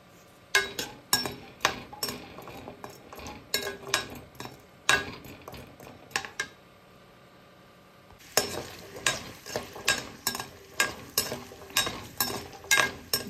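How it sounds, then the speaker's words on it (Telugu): Small amla gooseberries frying in warm oil, a soft sizzle beneath a steady run of sharp ladle clinks against the pan in a regular stirring rhythm, pausing briefly before resuming. "జాగ్రత్తగా ఫ్రై చేసుకోవాలండి"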